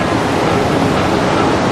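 Strong gusting wind, generated to simulate the force of a typhoon at about 130 kilometres an hour, roars as a loud, dense, steady rush close to the microphone, with no voices.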